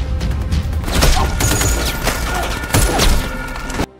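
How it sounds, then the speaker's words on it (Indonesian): Gunfire in a film gunfight: a dense, continuous barrage of loud shots and crashing impacts with booming low rumble, sustained for several seconds before cutting off abruptly. "Baku tembak kembali terjadi."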